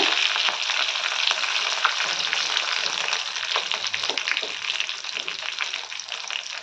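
Dried red chilies and spices crackle and sizzle in hot ghee as tempering for bisi bele bath, a loud, dense frying hiss with scattered pops continuing steadily throughout.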